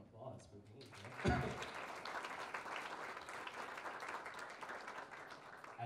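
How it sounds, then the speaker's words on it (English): A gala crowd breaks into a round of applause, many hands clapping steadily in a large room, with voices and cheers mixed under the sustained clapping. "Give yourselves a round of applause for being here."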